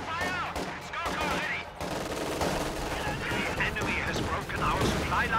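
Bursts of DP machine gun fire rattle through a busy Company of Heroes battle between infantry squads, dense continuous shooting with game voice lines and talk layered over it.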